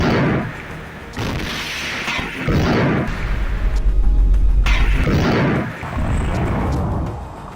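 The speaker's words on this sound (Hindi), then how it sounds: "हालांकि वीडियो में दिख रहा है कि शायद आईडीएफ का टैंक भी एक गोला दागता है, लेकिन उसके साथ ही अल कुद्स का लड़ाका उसके ऊपर रॉकेट दाग देता है।" Tank shells and rockets fired with heavy explosions during fighting in Khan Yunis, Gaza: loud booming blasts and rumbling roars in repeated waves, with a deep sustained low rumble in the middle, no voices.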